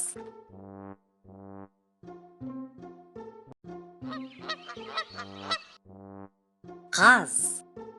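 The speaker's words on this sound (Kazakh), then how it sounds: "Қаз." A goose honks in a series of short, evenly spaced nasal calls, clear and fairly close, followed by a louder, harsher cry near the end.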